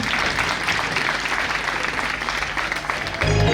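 An audience at a religious gathering in Naranpar claps together in loud, dense, sustained applause that fills the hall evenly, with no talking over it.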